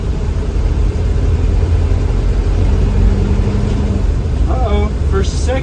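A 1973 Chevrolet K5 Blazer on its first drive, heard from inside the cab as it pulls away through the first gears: a loud, close, steady engine drone with a brief change in tone near the end.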